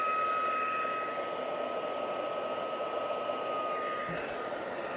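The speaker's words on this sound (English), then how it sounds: "So I'm just going to use my heat tool." A crafting heat tool blows a steady, close whirring hiss while shrinking a ribbon, unbroken for the whole stretch.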